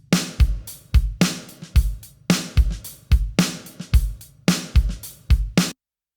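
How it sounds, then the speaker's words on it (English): A straight-ahead pop rock drum loop from a Logic Pro Session Player, with punchy kick and snare hits in an even, repeating pattern, loud and alone, stopping abruptly just before the end. "So a nice straight ahead pop rock drum beat."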